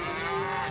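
Cows on railway tracks in a Thomas the Tank Engine cartoon let out a single sustained moo, loud and close, with no talking over it.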